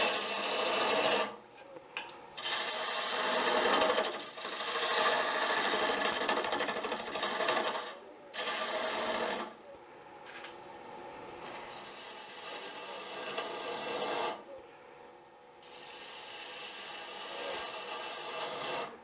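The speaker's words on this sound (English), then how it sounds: "Now we're going to come in with fingernail ground gouges." Fingernail-ground gouge cutting a wooden workpiece on a lathe, a steady rough scraping hiss that runs in long passes and cuts off in several brief pauses, loud and close with no voices.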